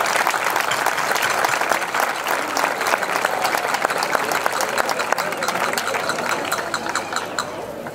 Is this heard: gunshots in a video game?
no